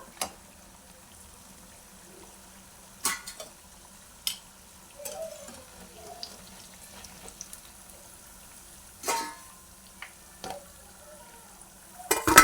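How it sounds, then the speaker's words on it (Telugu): Wheat-flour bondas fry in oil while being stirred so they brown evenly: a faint, soft sizzle runs underneath scattered sharp clinks and scrapes of the utensil against the pan, with near-silence between them. "కలుపుతూనే ఫ్రై చేస్తుండాలండి లేకపోతే ఒకటే వైపు వేగుతాయి"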